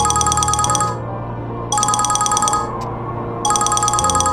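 A mobile phone ringtone plays in three repeated bursts of bright chiming tones, separated by short gaps, over a steady low drone.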